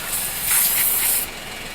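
Compressed air hisses steadily into a car tire being topped up to 40 psi, a close, loud, broad rush that swells in the middle and then cuts off abruptly, with no talking.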